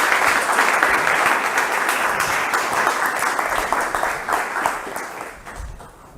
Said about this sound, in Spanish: un fuerte aplauso al ingeniero Guzmán, César Guzmán, presidente del capítulo